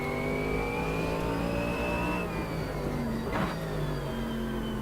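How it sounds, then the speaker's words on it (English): Steady, loud V8 GT3 race car engine in Automobilista 2 at Bathurst, holding a sustained rising rev with a clear gear shift midway, a continuous close onboard drone with no talk. "This is what a V8 should sound like."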